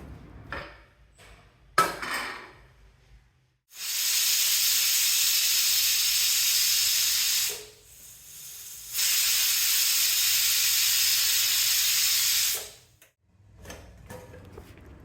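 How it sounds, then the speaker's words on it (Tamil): A pressure cooker on a stove vents two long, loud, steady steam hisses separated by a short break, with scattered kitchen clatter before and after, while an eggplant chutney with tomato and onion cooks. "குக்கரில் 2 விசில் வச்சா போதும்"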